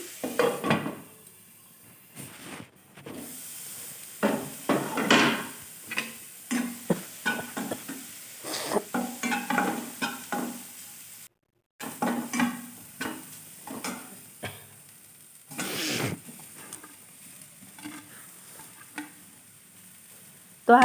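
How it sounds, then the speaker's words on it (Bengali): Potato and cauliflower pieces are stirred and fried in a pan: a spatula scrapes and knocks against the metal in irregular strokes over a faint, steady sizzle, with one short pause midway, and no voices. "আলুটা দিয়ে ভালো করে আমি এবারে মিশ্রণটা মিশিয়ে নেব একটু ভাজা ভাজা করে নেব"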